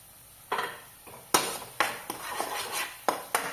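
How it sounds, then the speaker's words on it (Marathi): Masala spices roast in oil in a pan while a utensil scrapes and clinks against the metal, sounding as a series of sharp, close knocks over a low background sizzle. "त्याला चांगलं तेल सुटेपर्यंत मसाला हा भाजून घ्यायचा व्यवस्थित"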